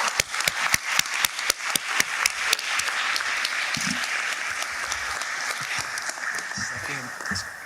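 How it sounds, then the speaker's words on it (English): Audience applause at a commencement ceremony for an honoree, opening with sharp, distinct claps that swell into dense, steady clapping across a large room. "Please give a round of applause to Dr."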